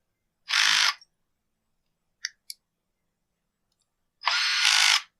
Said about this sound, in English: So we're going to crank up the bit driver a little bit.